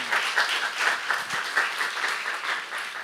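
Congregation clapping during a Saturday church service, a lively continuous round of applause from many hands in a rhythmic, fairly loud wash lasting the whole moment.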